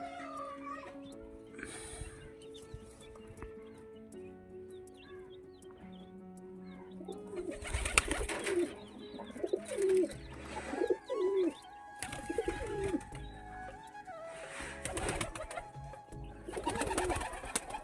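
Pigeons coo repeatedly around a home loft, with soft throaty calls that come and go. Louder bursts of flapping or shuffling and a few faint voices can be heard in the background.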